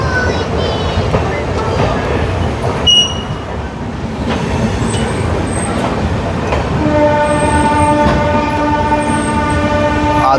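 Rupasi Bangla Express pulling away from Adra Junction, a loud steady rumble of wheels and carriages with rhythmic rail clatter, high wheel squeals and a brief horn-like tone near the end.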